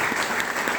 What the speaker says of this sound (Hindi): एक बार तालियां बजाना पड़ेगा ना